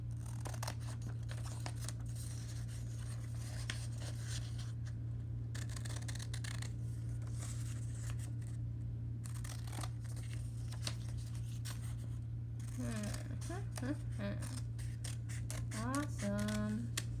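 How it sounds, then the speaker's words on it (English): Scissors snip repeatedly through paper up close, a run of quick crisp cuts over a low steady hum, with a little faint talk near the end. "I'm going to take my scissors and I'm going to cut it out"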